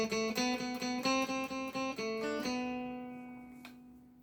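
Guitar playing a song riff: a quick run of clean plucked notes with a steady pulse, then a held note ringing out and fading, close and fairly quiet with no talking.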